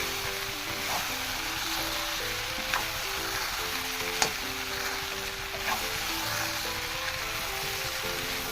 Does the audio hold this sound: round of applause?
no